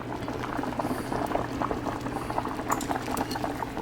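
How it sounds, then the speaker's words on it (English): Chicken pasta soup boils steadily in a pot as shrimp go in, a continuous dense bubbling with small splashes and liquid clatter, close and moderately loud, with no talking. "So now I'm gonna add the shrimp."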